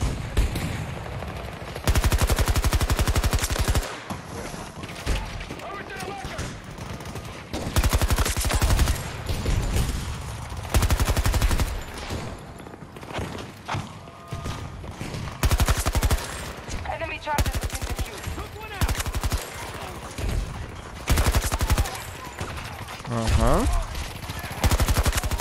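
Rapid automatic gunfire from a Battlefield 2042 match, loud bursts repeating in clusters with brief pauses, close and dominant, with game effects layered around the shots.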